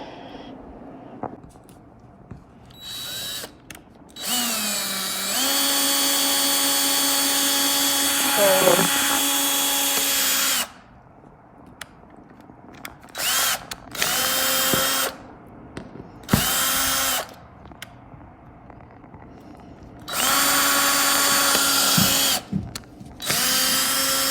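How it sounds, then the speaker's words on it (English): A power drill drives screws into wood while a fairy-light star ceiling is being fitted, its motor whirring in several close, loud bursts that rise in pitch as each starts, with talk in the pauses between them. "we just have to drive those screws the rest of the way in"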